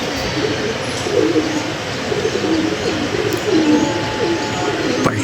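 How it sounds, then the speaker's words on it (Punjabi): Pigeons coo repeatedly as they land, soft throaty calls rolling over a steady outdoor background hum. "ਅੱਜ ਨਵੇਂ ਕਬੂਤਰ ਸਾਰੇ ਉੱਤੇ ਗਿਰੇ ਅੱਲਾ ਖੈਰ ਕਰੇ"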